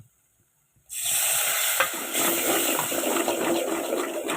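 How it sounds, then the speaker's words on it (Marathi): After a brief silence, water suddenly pours into a pot, a loud, steady rushing splash that continues to the end. "थोडंच टाकू आपण याच्यात पाणी"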